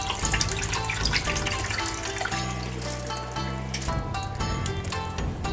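Two cups of rice being rinsed under a running kitchen tap, with a steady close stream of water splashing and swishing through the grains, heard alone without speech.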